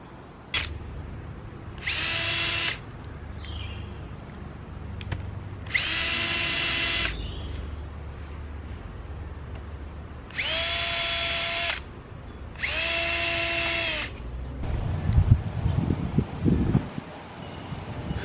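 A power drill drives screws into a wooden hammock stand outdoors in four distinct whirring bursts, each rising in pitch and lasting about a second, with light rustling and handling clatter between them.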